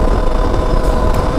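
Stark Varg electric dirt bike running at full throttle, a steady loud broadband roar with wind rush and drivetrain whine throughout, no pauses, no talking.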